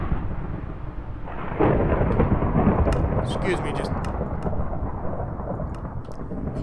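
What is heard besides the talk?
thunder sound effect on a live stream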